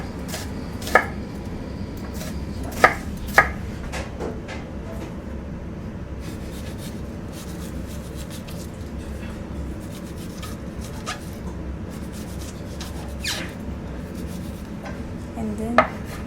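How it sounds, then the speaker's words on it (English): A knife chops shallots on a board in a kitchen, a handful of crisp, separate cuts at irregular intervals over a low steady background hum, with no talking. "Next, I will cut my shallots."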